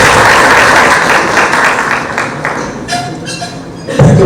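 Audience applause at an Engineer's Day function at a college, a dense sustained clapping from a hall crowd that thins slightly toward the end before a brief louder burst.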